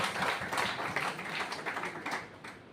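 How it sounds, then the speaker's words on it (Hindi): Audience applause after a talk at a road development training session, a faint, steady spread of clapping hands heard from some distance, lasting a few seconds without pause. "तो ऐसे ही ट्रेनिंग सेशन के लिए एक बार जोरदार तालियां"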